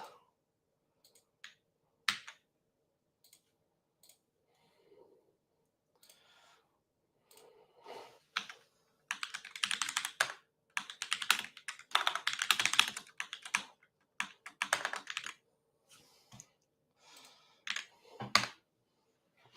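Keys on a computer keyboard clatter nearby, starting with sparse scattered taps and building into dense, rapid bursts in the middle before thinning out again, with no one speaking.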